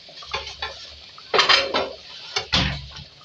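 A spoon scrapes and clinks against a pan of Mughlai fish with kasuri methi, giving a few scattered metallic knocks and two louder stirring bursts, close and alone.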